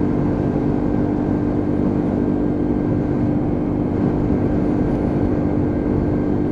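A Lexmoto Venom 125cc motorcycle rides steadily downhill on a test ride, its engine drone loud, dense and continuous throughout, mixed with rushing wind noise and no talking.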